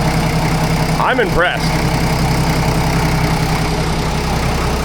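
A barn-find CASE loader engine idles steadily through a quiet muffler, a continuous low rumble close by, with someone speaking briefly over it.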